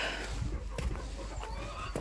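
Chickens and chicks cluck faintly in a rural farmyard on a warm autumn day, with soft, scattered calls over a steady low background hum.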